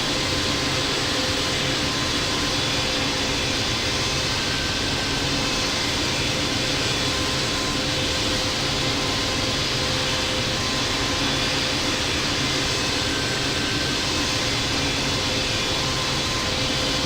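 Steady, continuous engine roar and hum of a Boeing 777-200 jet taxiing in the Infinite Flight game at Los Angeles, loud and unchanging throughout with no other sounds.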